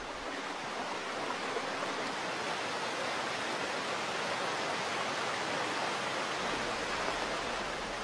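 Steady broadband rushing of a waterfall pouring over granite rock into a pool below, a continuous even roar with no pauses, no voices and no other sounds.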